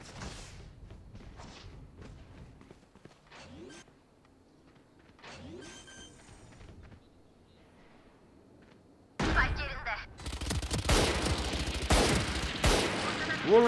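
Gunfire in the tactical shooter Valorant: scattered clicks and short shots early on, then a dense, loud burst of rapid automatic fire near the end, with a player talking excitedly in between.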